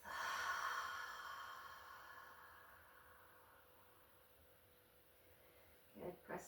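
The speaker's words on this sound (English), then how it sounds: "Biggest breath you've taken all day. And exhale through the mouth." A deep breath is exhaled slowly through the mouth during a yoga session, a soft airy rush that fades away over several seconds before a couple of faint breaths near the end.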